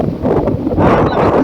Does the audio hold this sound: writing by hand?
no